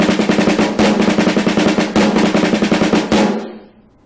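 Snare drum playing a ten-stroke rudiment with diddles on the first four notes of each group and single taps on the last two, a dense rapid pulsing of crisp strokes that stops abruptly and rings out briefly.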